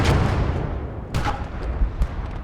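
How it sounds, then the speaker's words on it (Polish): A gunshot in the World War II game Gates of Hell during heavy urban multiplayer fighting, a loud booming report with a rumbling tail and further thuds and cracks close behind. "Ok, oddałem jeden strzał"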